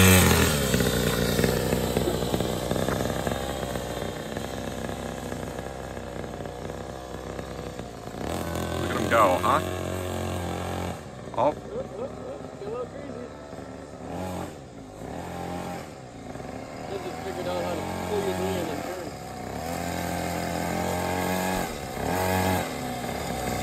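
A small go-kart engine idles and revs in a rough, buzzing drone through most of the passage, fairly close and steady with a few brief dips, while people talk and exclaim over it.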